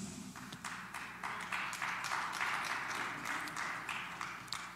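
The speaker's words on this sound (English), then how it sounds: "I had about 10 claps there" A few people in a church audience clap sparsely, a thin patter of separate hand claps against a roomy indoor background.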